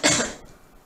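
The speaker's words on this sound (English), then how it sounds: "Coughing, bekbekbe" A single short, harsh cough, close and clear, trailing off quickly into quiet.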